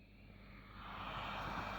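A 3-in-1 solder and SMD rework station powers up, its hot-air fan spinning into a steady rising whoosh that grows louder and holds, close by with no talk.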